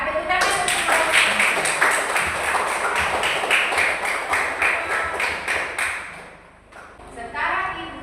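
A classroom group claps together in quick rhythmic applause that fills most of the stretch, close and loud, then fades briefly before a last short burst, with children's voices mixed in.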